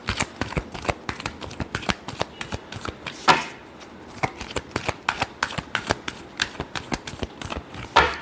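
Tarot cards being shuffled by hand, a fast run of crisp riffling flicks and slaps that continues steadily and close throughout, with no talk over it.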